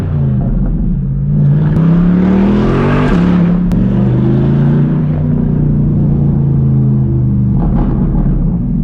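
A Corvette C8 engine rumbles loud and close, rising through a rev and settling into a deep exhaust burble with a few crackles, the drone continuous throughout.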